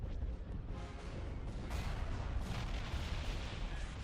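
Starships in a Star Wars strategy game trade continuous weapons fire, a dense, rumbling barrage of booms and blasts rolling on without pause at moderate loudness.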